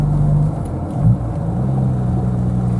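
Fully loaded Jaguar E-Type laden with camping gear, heard from inside or close by: a steady low engine rumble and road drone, with a slight swell in revs partway through.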